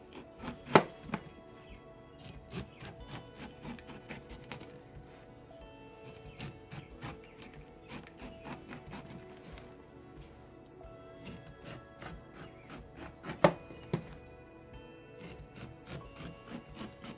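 A blade cuts through plant stems just behind the nodes, giving a series of crisp snipping and chopping clicks at an uneven pace over a quiet background, with a couple of sharper louder cuts.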